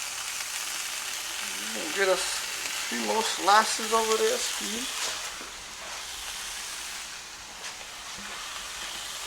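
Bacon frying in a skillet gives a steady crackling sizzle that runs through the whole stretch, with someone talking over it for a few seconds.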